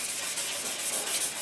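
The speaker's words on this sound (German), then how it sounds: "Nehmen wir wieder so ein Stück und fange an nass zu schleifen." A scooter part is wet sanded by hand, giving a steady, close, hissing rub with a slight rhythmic pulse of back-and-forth strokes and no voices.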